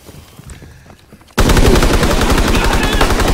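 A light machine gun in Call of Duty WW2 opens up after a quiet stretch, bursting into a loud, close, continuous stream of rapid automatic shots that runs to the end.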